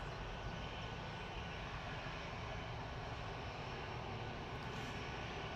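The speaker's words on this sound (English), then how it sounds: "those CFM Elite 1Bs are certainly a lot quieter than the old CFM 56s" An airliner powered by CFM LEAP-1B jet engines gives off a continuous, even engine roar at moderate distance, with no voices over it.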